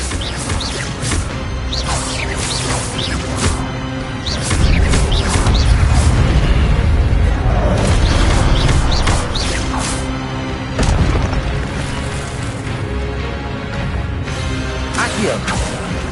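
An Expelliarmus spell is cast during a Hogwarts Legacy fight, amid a dense run of magical whooshes, bursts and heavy impacts, with a louder swelling blast in the middle and scattered crashes around it.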